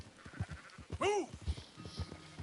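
A sheep in Red Dead Redemption 2, a straggler lagging behind its herd, lets out one clear bleat in the middle, among repeated soft hoof thuds and low ambient noise.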